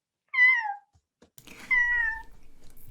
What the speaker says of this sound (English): you also hear a couple of meows